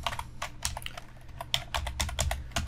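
Close fingers typing on a computer keyboard while writing web code, a quick uneven flurry of clicky keystrokes with short pauses, moderately quiet and with no talking.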